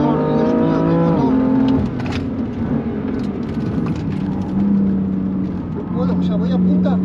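A BMW M3 engine revs hard on a race circuit, its pitch climbing and dropping through gear changes, loud and close, with someone talking over it.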